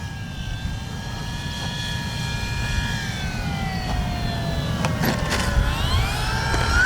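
An Arrows RC Bigfoot model airplane flying at full speed with the wind over a grassy field, its electric motor a steady whine that rises and bends in pitch as it passes. Wind rumble runs underneath throughout.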